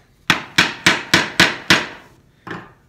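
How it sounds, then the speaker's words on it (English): A small woodworking chisel is struck six times in a steady rhythm to chop through small dovetail pins in drawer stock, each blow a sharp close knock. A quieter seventh knock comes after a pause. "So I'm just going to take this smaller chisel and go through."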